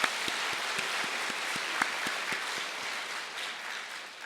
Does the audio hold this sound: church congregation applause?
yes